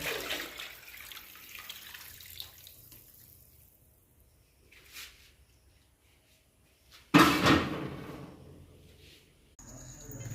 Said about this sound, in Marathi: आता गरम केलेलं पाणी आपण याच्यामध्ये ओतलं